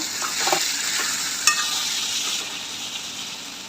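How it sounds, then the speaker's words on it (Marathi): A spatula stirs spicy Maharashtrian suran (elephant foot yam) bhaji in a pan after steaming, a steady soft sizzle running throughout with a few light scraping strokes and one sharper clink. "भाजी फिरवून घेऊया"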